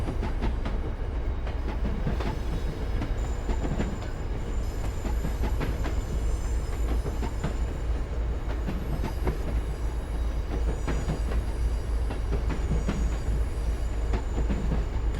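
MBTA HSP46 commuter train running in Train Sim World 5, a steady, loud rumble of rail noise and wheel clatter that carries on unbroken from start to end.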